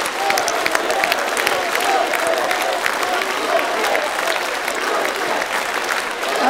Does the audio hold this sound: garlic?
no